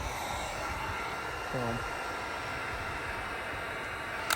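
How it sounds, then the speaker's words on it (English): A heat gun blows steadily on vinyl being wrapped around the headlight eyelid of an MK7 Jetta, making a constant airy hiss at moderate level with a brief murmur of speech partway through. "hit it with a heat gun and kind of wrap it around the edges with your fingers"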